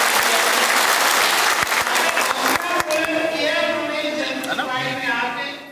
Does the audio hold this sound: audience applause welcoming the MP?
yes